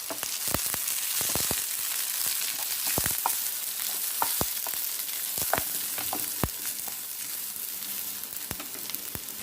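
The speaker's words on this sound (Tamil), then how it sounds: "அப்புறமா இதை நான் ஒரு தடவை நல்லா ஃப்ரை பண்ணி விட்டுக்கலாம்" Chopped onion, carrot and beans sizzle in a hot pan for a veg spring roll filling: a loud, steady hiss with frequent crackling pops and a few scraping stirs.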